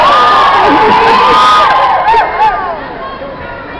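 A crowd at a Plaza de las Estrellas recognition ceremony for Sebastián Zurita cheers and shouts loudly, with whoops and excited voices at full volume that ease off toward the end, and a speaker's voice briefly heard.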